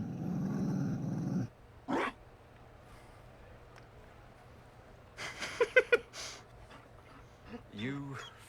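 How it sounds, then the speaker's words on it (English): A Mabari war dog in the video game Dragon Age Inquisition, Trespasser expansion, growls and huffs in short playful bursts between stretches of quiet, with voices talking early on. "Okay, you're playing with a dog."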